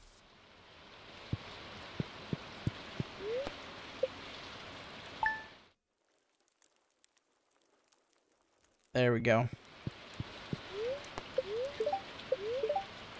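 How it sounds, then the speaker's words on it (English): Steady rain hiss from a storm in the video game Stardew Valley, with soft drip and click sounds, cuts to silence for a few seconds and then returns, while someone talks briefly. "3 days of rain, wow."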